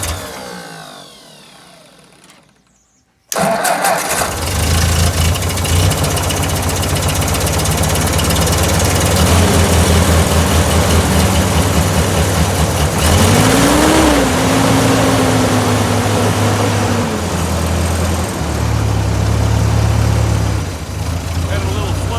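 A 1955 Ford 660 tractor engine cranks and cold starts after a short quiet stretch, then settles into a loud, steady, slightly uneven idle with a brief rev, close up.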